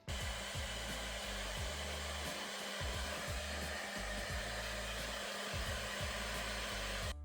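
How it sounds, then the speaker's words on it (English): A hair-dryer-style heat tool blows steadily on an aftermarket gear knob from an Alfa Romeo Giulietta to soften the glue inside, a loud constant airy roar with motor hum, no talk. "I'm gonna start by heating up the gear knob"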